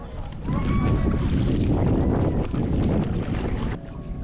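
Steady wind buffeting the microphone while paddling near mangroves in Moalboal, Cebu, Philippines, a loud broadband roar across the whole clip, with faint sounds of water and a boat underneath.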